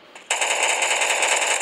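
Rapid automatic gunfire from the Mask Gun video game starts abruptly after a brief quiet moment and continues as a dense, loud, continuous burst.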